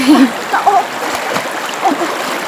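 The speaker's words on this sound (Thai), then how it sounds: "มาเริ่มมาอาบน้ำท่านพี่โก" Water splashes and sloshes in a shallow stream as someone bathes, with a few irregular splashes close by and voices talking over it.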